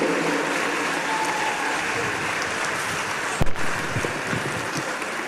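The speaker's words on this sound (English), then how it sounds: "They deserve a huge round of applause." An audience applauds the cast of a school annual day show on stage, continuous moderate clapping with a brief louder bump midway, no clear speech.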